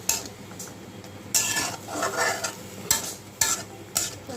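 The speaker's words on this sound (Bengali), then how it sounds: "মশলাটা একটু ভালো করে কষাবো তারপরে আমি মাছগুলি দিব" Spiced masala paste being stir-fried for a hilsa fish curry with kalo jeera, a spatula scraping the pan in several sharp strokes over a steady sizzle, close and fairly loud.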